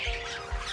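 A large pet bird, such as a cockatiel or similar big parrot, gives harsh squawks close by at a bird-breeding farm, with a steady background hiss and low thumps.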